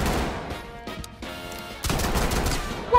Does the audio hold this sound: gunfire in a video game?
yes